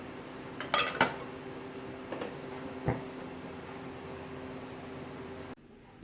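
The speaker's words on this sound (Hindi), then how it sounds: "मैं फ्लेम ऑफ करके अब इसे डिश आउट करने जा रही हूँ।" Cooked khichdi is served from a pot into a dish: a handful of soft metallic clinks and scrapes of a spoon against cookware over a low, steady kitchen hum, with no talking.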